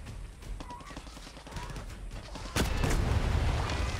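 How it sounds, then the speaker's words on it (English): An explosion in the video game Far Cry 6 bursts loudly after a stretch of scattered gunfire and game noise, leaving a sustained rumble. "Bit of unnecessary explosion right there."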